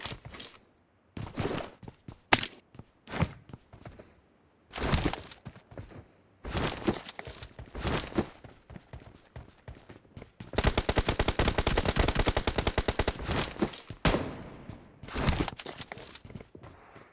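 Bursts of gunfire from a PUBG Mobile match: scattered single shots and short volleys, then a long rapid automatic stream, loud and close with no talk.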